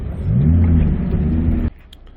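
A parked Lamborghini's engine hums low and steady up close for over a second, then cuts off abruptly.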